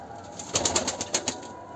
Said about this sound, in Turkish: Kanat kanat seslerine bak maşallah.